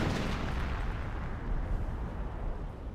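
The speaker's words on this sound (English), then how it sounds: "Decent barrage there." An artillery barrage in Company of Heroes, a World War II strategy game, rumbles as a distant, steady low roar of shelling, fairly quiet and continuous throughout.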